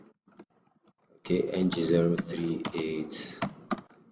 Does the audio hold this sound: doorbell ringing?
no